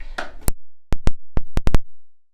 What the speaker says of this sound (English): that was just a crystal landing in the bath